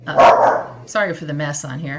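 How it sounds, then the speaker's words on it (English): A dog barks once, loud and close, and a person then talks over the quieter background. "Sorry for the barking."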